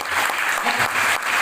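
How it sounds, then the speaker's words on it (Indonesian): Steady round of clapping from a crowd, loud and continuous for the whole moment. "Tepuk tangan untuk kita semua hari ini"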